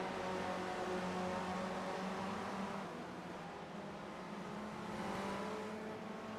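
Race car engines roar steadily throughout a sim racing esports event, a dense, sustained engine drone with slight shifts in pitch as cars battle on track, no talk audible.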